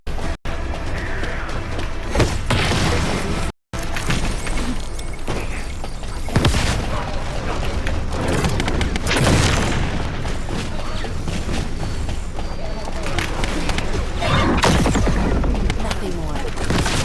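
Explosion detonated in the video game The First Descendant, part of a dense run of booming blasts and gunfire bursts with a brief dropout, loud and continuous throughout.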